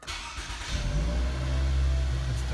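A Toyota with a smart key is started, a short starter crank that catches quickly and rises into a steady low engine idle, close and fairly loud.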